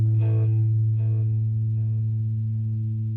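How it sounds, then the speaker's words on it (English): Electric guitar played through a Boss Katana amp with its tape echo effect engaged, a few picked notes ringing out and then repeating as softening echoes over a sustained low tone, alone with no talking. "Switch the effects button one more time, and then you get into the tape echo."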